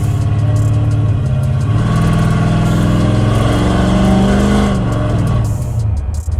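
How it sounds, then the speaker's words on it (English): A loud resto-mod car exhaust revs and growls close by, rising and falling in pitch with a deep rumbling tone, no voices. "the exhaust note's pretty darn wicked"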